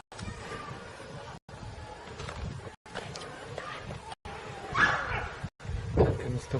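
A dog barks and lets out whimpering cries in short bursts over a rough, noisy background, broken by several abrupt cuts.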